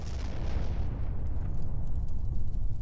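A large explosion goes off in the military shooter game ArmA 3 with a Halo mod, a deep rolling boom that rumbles loudly and continuously for several seconds with no voices.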